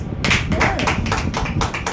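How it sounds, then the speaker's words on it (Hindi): An audience gathered for a spiritual talk claps, a burst of close, dense hand claps in quick uneven rhythm filling the moment, with a voice mixed in. "ताली तो बजा दी।"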